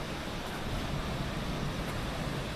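Noori waterfall in Pakistan heard from about 30 meters away, a constant, even roar of rushing water with no breaks and no voices.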